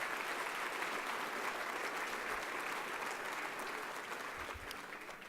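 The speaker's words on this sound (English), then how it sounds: "One more round of applause for that wonderful job." Sustained applause from a fundraising dinner crowd for a professional chorus, a dense steady wash of many hands clapping that tapers slightly toward the end, somewhat distant and even.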